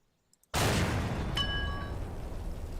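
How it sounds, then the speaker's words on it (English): In the Garry's Mod game, a cannon fires with a sudden loud blast that becomes a sustained, roaring explosion, a brief metallic ringing clink briefly riding over the dense rumbling noise. "we're going to fire this flat cannon at him"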